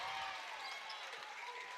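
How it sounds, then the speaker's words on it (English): Gym crowd at a girls' high school basketball game between Pickett County and Whitwell, cheering and applauding steadily as a dense, continuous roar for a couple of seconds. "Crowd really getting into it now"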